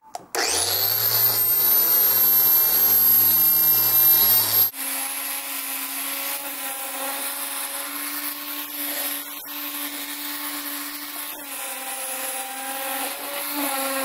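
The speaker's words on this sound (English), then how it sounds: "we're going to use a random orbital sander with a 120 grit pad" A random orbital sander with a 120 grit pad sands wood for a bodysurfing handplane, starting with a loud, steady whine and then settling into a lower, constant hum with faint rubbing. The sound stays close and continuous, with no voices.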